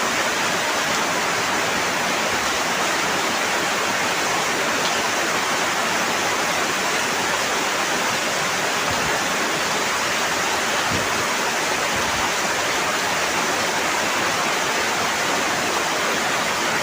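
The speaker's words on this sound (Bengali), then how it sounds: "প্রচুর বৃষ্টি।" Heavy rain pouring down at a market with water pooled below, a dense, steady hiss of downpour and rushing water, loud and unbroken throughout.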